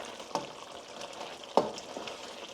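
A spoon scrapes twice through shalgham gosht, a turnip and meat curry, under a steady low sizzle of frying in the pot, close up with no talking.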